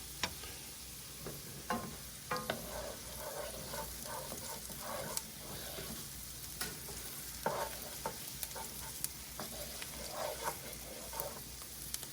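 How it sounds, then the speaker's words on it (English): Mushroom risotto enriched with butter and parmesan being stirred in a pan: soft, continuous scraping and wet churning with scattered light spoon clicks, close and steady, no voices. "Stir it up, it'll make it nice and creamy."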